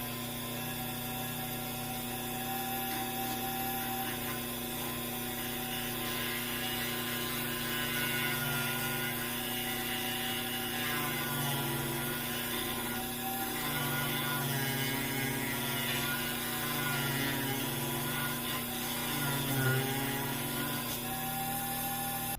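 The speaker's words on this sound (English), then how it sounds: "I have this scrap piece of wood here. Let me get on my safety equipment and plug in the Dremel" A Dremel rotary tool clamped in a Dremel Multi-Vise 2500-01 works a piece of scrap wood, giving a steady, continuous motor whine with a faint hum underneath. It runs evenly throughout, with no talking.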